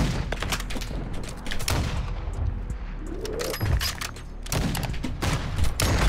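Dense gunfire in the video game Modern Warfare 2, a steady fusillade of shots and bursts running loud and close throughout, with booming impacts layered in and no talking.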